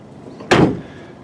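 A car door at a salvage yard shuts with one solid, close thud that decays quickly, with no other sounds around it.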